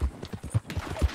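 A large horse's hooves clip-clop in the Western video game Red Dead, with quick, rhythmic, close hoofbeats repeating evenly over about a second with no talk.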